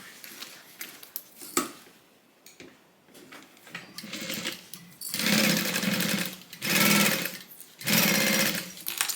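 A sewing machine stitches lining into a Soraya divider bag, running in several bursts of rapid, steady stitching that grow louder and longer, separated by short pauses and small handling clicks.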